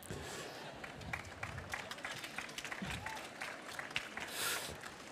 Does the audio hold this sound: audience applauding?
yes